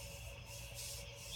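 Sanding on bondo filler applied to a Robotron arcade cabinet, a quiet, continuous scratchy rubbing with slight rhythmic strokes and no talking.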